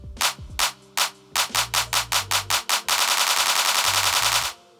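A Fender Motion drum pad controller triggers a sequence of separate sharp hits, then a note repeat produces a rapid continuous roll of identical hits lasting nearly two seconds before stopping.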